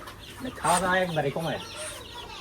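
A native hen clucks nearby on a poultry farm in a short burst of throaty, stuttering calls, then falls quiet against faint background noise.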